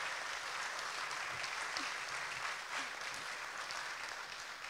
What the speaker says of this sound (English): Seriously, he does get applause.